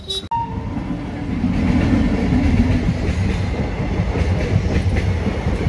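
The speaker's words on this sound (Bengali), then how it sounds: "এখন এই রেলগেটে গেট পড়েছে, তাই দাঁড়িয়ে আছি। ট্রেন যাবে, তারপরে গেট খুলবে।" A train rolls past close by at a closed railway level crossing gate, a loud sustained rumble with rhythmic clattering of wagons over the rails, starting just after a brief sharp onset and continuing steadily throughout with no talk.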